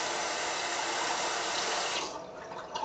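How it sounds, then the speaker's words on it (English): A tap runs for a cold water rinse of a synthetic brush, a steady close rush of water splashing into a sink that eases off near the end. "we are going to cold water rinse real quick"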